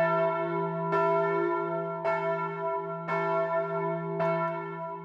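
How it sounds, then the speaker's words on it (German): Newly installed parish church bells of St. Daniel ring together with an older bell, four evenly spaced strikes over a long sustained harmonious hum, clear and close with no voices. "Endlich passen die anderen Glocken harmonisch zu ihrem Klang dazu."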